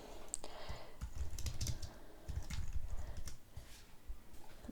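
Keys clatter in quick irregular bursts as someone types on a computer keyboard, close and fairly loud, with brief pauses between runs.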